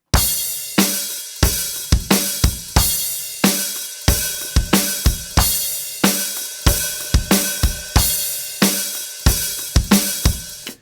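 Half-time drum groove for a song with kick drums on 1, 3 and the a of 4, snare backbeats and hi-hat, plus crashes, played alone as loud, steady, punchy hits.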